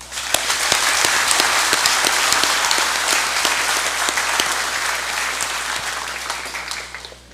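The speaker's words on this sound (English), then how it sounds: "May we give them another round of applause." Sustained applause in a national congress chamber for the President and Vice President of the Federated States of Micronesia, a dense, even roar of many hands with crisp claps popping through, tapering slightly at the close.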